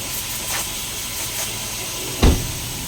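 Water spray hissing steadily against the radiator panel of an Isuzu D-Max from 2005–06, a continuous broadband spray with a brief knock near the end.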